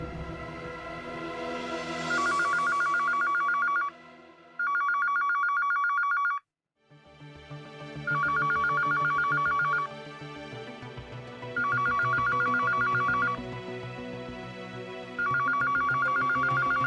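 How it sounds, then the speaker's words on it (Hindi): A telephone rings repeatedly in bursts of electronic trills on an unanswered call, with a short gap and steady background music between the rings. "मैं कब से आपको फोन लगा रहा हूँ, आप फोन क्यों नहीं उठा रही?"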